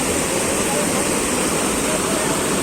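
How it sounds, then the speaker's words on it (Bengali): Floodwater rushes through a broken dam on the Khoai River in Bangladesh, a loud, unbroken roar of churning water that fills the whole scene, with someone speaking over it. "দেখেন পানির গতিটা"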